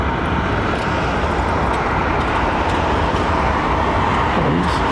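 An airliner rolls onto the runway at London Heathrow, heard as a loud continuous broadband engine and wind roar filling the scene with a steady rumbling hiss, no distinct impact.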